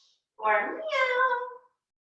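Children's voices imitate a cat, drawing out one short meow in a quiet yoga circle setting.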